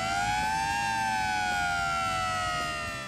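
Siren on a Chevrolet Biscayne sedan converted into an ambulance by the Cotner Bevington Corporation, a steady wailing tone gliding slowly up and down, fairly close, with a low engine rumble beneath it and no talk.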